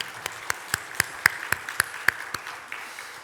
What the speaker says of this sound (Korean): 우리 박수로 축하하시기 바랍니다